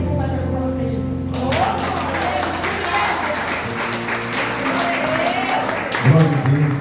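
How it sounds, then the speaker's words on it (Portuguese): A church congregation claps in applause for the pastor, scattered hand claps building under a loud voice speaking over them, with organ or keyboard tones sustained in the background. "Receba o pastor com palmas para Jesus"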